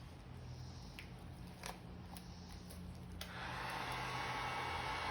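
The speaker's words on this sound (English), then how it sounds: "I have my heat gun now on low setting, and I'm going ahead first of all with my tray." Steady airy rush of a heat gun on its low setting, blowing over a glossy epoxy resin top coat on a tray; the hiss is fairly faint at first, then grows louder and fuller partway through, with a few small clicks and no talk.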